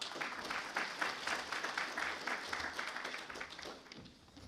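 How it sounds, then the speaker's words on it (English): Applause from the crowd at an East London Mosque community awards ceremony as the chair of judges is welcomed, a steady wash of clapping that fades slightly toward the end. "Please give him a massive round of applause"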